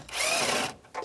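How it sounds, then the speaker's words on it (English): Power tool with a 7mm socket spinning out panel screws on a 1999-2006 Chevrolet Silverado 1500, one brief close high whir lasting under a second, then a short second burst. "We're going to remove these screws. Use a 7mm socket."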